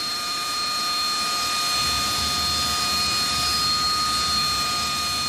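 A Harrier jet engine idles during a ground test, a loud continuous roar with a steady high-pitched whine that holds an even level throughout.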